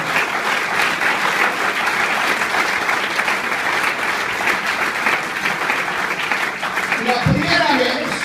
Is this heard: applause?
yes